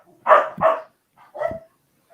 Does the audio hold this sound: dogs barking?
yes